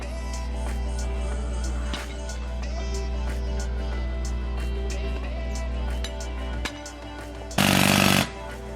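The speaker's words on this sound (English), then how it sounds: "I'm gonna try to use this and drill through the wall. This is called a rock drill." Loud, continuous hammering of a rock drill pounding through a wall during a lead-to-copper water main upgrade in New York City, rapid and relentless, with a brief burst of harsher noise near the end.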